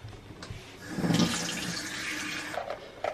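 Water, mistakenly taken instead of milk, pours into a chocolate sauce mixture in a home kitchen, a steady close splashing stream that lasts about two seconds and ends with a couple of small clinks.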